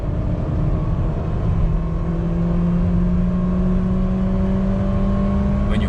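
A 2021 Mitsubishi Xpander 1.5 MIVEC engine roars loudly at full throttle, its pitch climbing steadily toward the redline as it revs hard and continuously.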